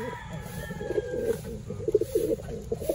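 Breeder pigeons coo in soft, repeated low calls close by, with faint background noise and a few brief chirps.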